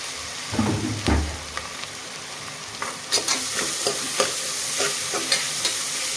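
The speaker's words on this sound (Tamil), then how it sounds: "வெங்காயம் போட்டு கோல்டன் கலர் கலர் வர வரைக்கும் வறுக்க போகிறோம்" Onions frying in a pot for Thanjavur-style mutton biryani, a steady bright sizzle with a few low stirring knocks and scrapes early on, then crackling pops as the oil spits, close and continuous with no talk.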